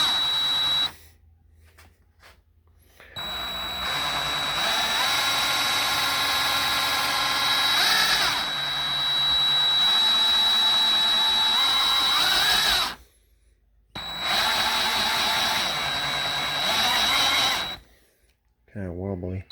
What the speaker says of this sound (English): so that I can use my drill for pumping.